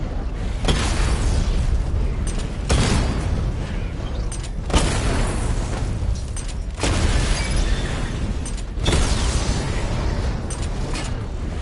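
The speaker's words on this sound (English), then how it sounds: "Charge the missile barrage to level 2 to destroy up to 4 targets at once." Missile barrage explosions from Batman: Arkham Knight sound as a run of loud, booming blasts, one roughly every two seconds, each a sharp burst that decays into rumble over a constant low roar, with no voices.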